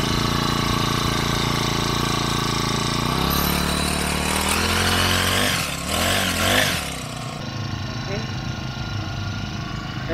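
A newly bought grass cutter runs in a rural farm setting, a steady buzzing engine drone throughout with a brief surge and rougher revving partway through, loud and close, with a voice talking briefly over it.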